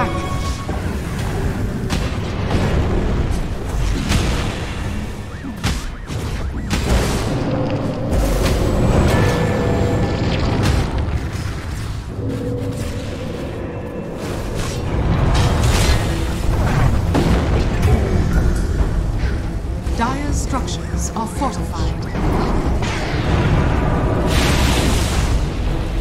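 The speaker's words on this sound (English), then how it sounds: "Radiant's bottom tower is under attack." Booming impacts and explosions of an attack on a tower in a Dota 2 match, dense and continuous over a loud game soundscape, with repeated heavy thuds and bursts layered throughout.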